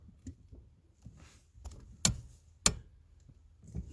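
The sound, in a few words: Ford Mondeo mk3 brake light switch clicking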